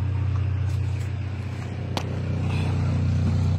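A Honda Civic engine idles steadily up close with a low continuous hum and a faint rattle running through it, plus a single sharp knock partway through.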